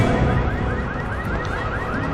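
Car alarm in the video game Resident Evil 6, a loud repeating rising electronic whoop cycling steadily over game background noise.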